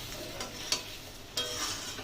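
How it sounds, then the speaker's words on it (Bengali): A spoon stirs crab malai curry seasoned with Kashmiri chili powder in a pan, two distinct scraping strokes over a soft, steady sizzle, close up. "কাশ্মীরি লঙ্কার গুঁড়ো দেওয়ার পরে একটু নেড়ে চেড়ে নেবো।"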